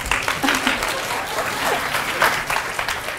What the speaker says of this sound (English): Clap la.